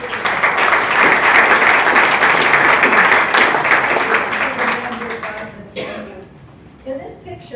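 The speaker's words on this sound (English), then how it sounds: "So if you're able, could you please clap for Tom Jones and David Bell" An audience at an indoor community mixer claps in sustained applause that tapers off over several seconds, leaving a few scattered claps.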